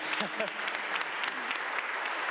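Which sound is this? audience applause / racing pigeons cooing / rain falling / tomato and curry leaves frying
audience applause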